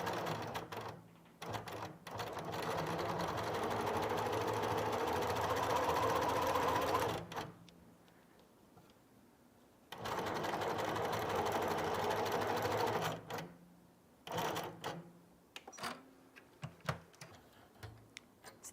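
A sewing machine chain-pieces quilt pieces in two long steady runs of rapid stitching, with a shorter burst and scattered start-stop stitches near the end, close and clear with no talk.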